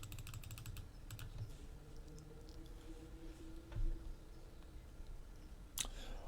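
Someone types a command on a computer keyboard in a quiet room, with quick clusters of soft key taps and a sharper click near the end.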